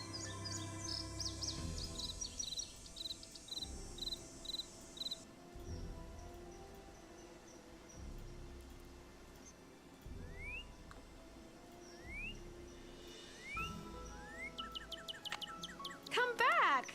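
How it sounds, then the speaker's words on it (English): Birds chirp in a Nancy Drew detective video game, with short, high, rising tweets scattered over a soft, steady ambient background that builds into a busier flurry of calls near the end. "Don't scare the birds, Nancy."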